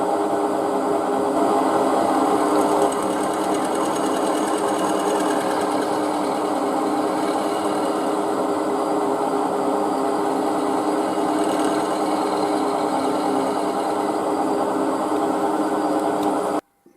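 Milling machine cutting down a welded patch on a BSA motorcycle timing cover, with a continuous close, steady grinding hum that holds for the whole stretch before cutting off abruptly at the end.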